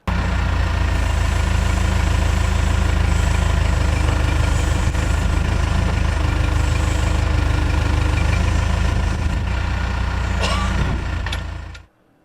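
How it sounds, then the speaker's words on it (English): A backhoe engine runs steadily and loudly while digging a straight-line trench, a constant low rumble that holds until it cuts off abruptly at the end. "Dig a straight line trench at the desired depth and to the desired length using proper backhoe"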